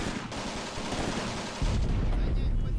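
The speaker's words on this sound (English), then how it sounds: "Ooh, that's definitely some mortar fire incoming." Incoming mortar fire in the WWII tactics game Graviteam Tactics: steady crackling battle noise gives way to a sudden heavy, rumbling low boom that keeps rolling, loud and close.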